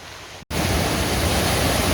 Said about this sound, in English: So this is the first little waterfall on the creek. This one's called Twentymile Cascade.